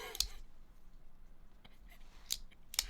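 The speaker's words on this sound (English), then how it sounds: "Sounds like an Axis lock. Real clicky clacky though." An Ozark Trail folding knife with an axis lock snaps shut and open in a few crisp, close clicks spaced apart over quiet background, with a faint murmur of speech.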